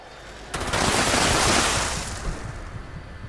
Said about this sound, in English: I've been shooting myself.